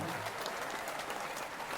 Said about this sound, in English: Y'all give him a hand clap.